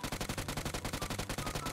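Rapid automatic gunfire rattles continuously in a shooter video game, a fast, even burst of shots that is loud and close with no talking.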